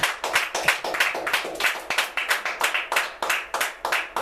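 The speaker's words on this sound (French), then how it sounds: "Acclamons l'Éternel Dieu." A church congregation claps in unison to acclaim God, a steady rhythmic beat of many hands, fairly close, with faint voices underneath.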